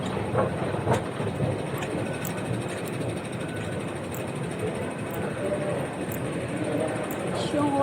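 A train runs on rails, a steady broadband rumble with faint rhythmic clatter throughout, while people talk quietly in the background.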